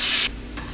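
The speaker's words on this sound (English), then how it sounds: "to my pan, I'm gonna add about 1/3 of a cup, it's a lot, of cider vinegar" Cider vinegar hitting a hot saucepan, a short loud burst of spitting hiss that cuts off quickly, followed by a fainter simmering hiss.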